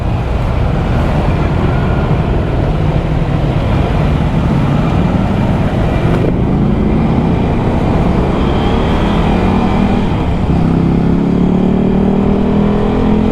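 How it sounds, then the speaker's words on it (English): A continuous, loud Ducati motorcycle exhaust rumble while riding, with wind rushing over it and the pitch rising as the engine revs. "That exhaust sound lovely"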